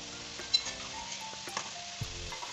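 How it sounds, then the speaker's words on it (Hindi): Quiet, steady sizzling of chicken frying in hot oil over a high flame, with a few soft clinks and stirring scrapes of a utensil against the pan. "चिकन को ऑयल में 6 से 7 मिनट फ्राई करेंगे हाई फ्लेम पे"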